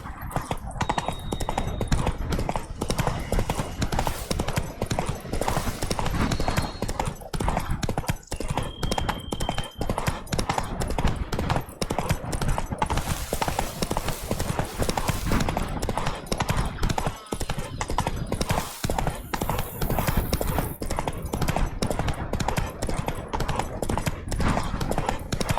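Hooves of the horse Roach clip-clop steadily in The Witcher 3 video game, a continuous loud rhythmic trot with brief game sound cues over it and no voice.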